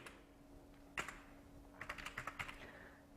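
Quiet computer keyboard typing: a single keypress, then a short burst of several quick keystrokes, close by over a faint steady hum.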